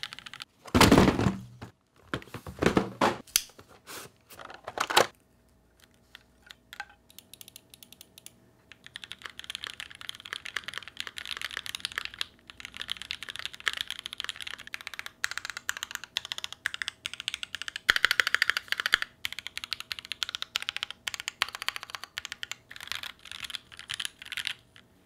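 Mechanical keyboard fitted with lubed, filmed JWK switches, stock stabilizers, PCB foam, case foam and gaskets, typed on up close: a few heavy thocks first, then a long run of fast, dense, even keystrokes with no talking.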